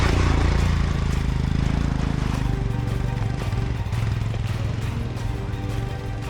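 A Royal Enfield Himalayan motorcycle climbs a hill with a loud, close, continuous engine roar that holds steady as it pulls upward, with wind rumble underneath.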